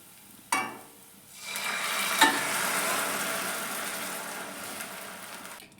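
Tomato puree hitting fried garlic in a hot pan: a sharp splash, then a loud, steady sizzle that swells and holds, with a clink of a utensil partway through.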